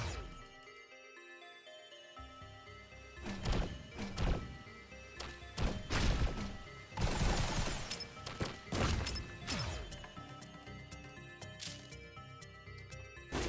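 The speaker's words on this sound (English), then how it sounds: "That's a lot of bombs." Repeated bomb blasts in the video game Risk of Rain Returns, a rapid series of loud crashing thuds bunched together over busy game music, with the heaviest cluster of explosions in the middle.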